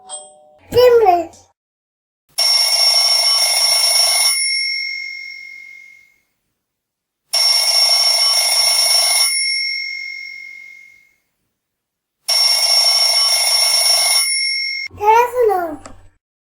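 A telephone rings in three long, evenly spaced bursts of bright electronic trilling, with a voice speaking briefly at the start and end.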